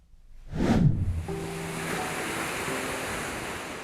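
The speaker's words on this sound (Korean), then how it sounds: "밀려오는 파도가 모래사장을 적시는 충남 보령의 한적한 바닷가" Waves wash onto a sandy beach on a quiet stretch of the Boryeong coast in South Chungcheong, one swell breaking loudly near the start and then settling into a steady surf wash with wind noise, no voices.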